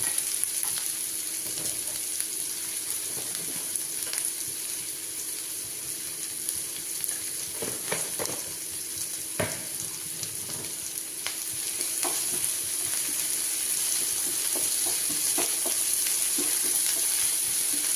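Sliced onions soften in a frying pan with a pinch of salt for masala bonda, giving a long, steady, close sizzle with scattered stirring taps and scrapes and no speech.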